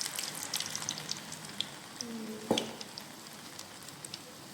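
Urad dal vada deep frying in hot oil, a soft steady sizzle and crackle with scattered pops, faint and close, plus one brief clatter partway through.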